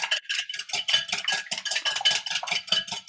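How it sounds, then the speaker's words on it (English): A fork or whisk stirs almond cookie ingredients in a bowl, giving a steady run of quick, close metallic clinks and scrapes against the dish that carry on throughout with no talking. "Stir them up a little bit."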